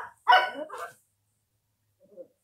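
A dog barks in a quick burst of two or three close, loud yaps indoors, followed by silence and one faint, short whimpering sound near the end.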